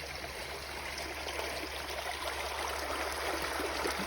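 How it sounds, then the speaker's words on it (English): Water flowing through a siphon on the downside of a pond, a steady, close rushing stream with an even trickling texture throughout. "And this is the siphon on the downside of the pond."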